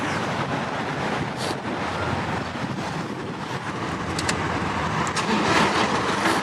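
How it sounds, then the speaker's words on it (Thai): A 2012 Toyota Hilux Vigo Champ 2.5 diesel pickup engine runs steadily at idle, a continuous rumbling drone with broadband noise and no talking. "นี่มาฟังเสียงเครื่องยนต์กันครับ"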